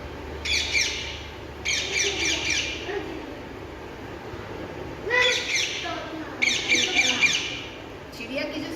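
Sharp, loud bird calls in bursts, likely an owl or peacock-type call, repeating in several harsh chirping phrases at close range against a faint background with no talk.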